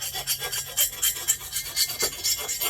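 A hand file deburring a cast iron cylinder from a Kawasaki KE100 top end, rasping in a steady run of short, even back-and-forth strokes, close and alone.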